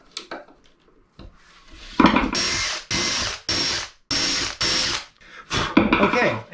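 Small screws being driven into wood for a test fit aboard a wooden boat: about six short, close whirring bursts with brief pauses between them, after a few quiet clicks and handling sounds.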